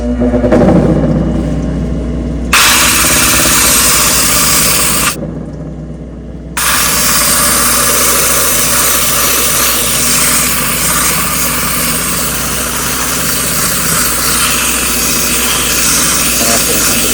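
A grinding machine flattens and bevels the edges of a jade bead, producing a loud continuous whirring drone that cuts out briefly twice, with wet spraying noise layered over the motor hum.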